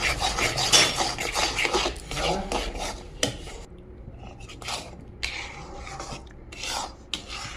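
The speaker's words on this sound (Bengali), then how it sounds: "ভালো করে নাড়ব শুকনো করে।" Kachori filling of green peas and sugar is stirred dry in a pan, a spoon scraping and rasping against the metal in uneven strokes, busy at first, then sparser with pauses.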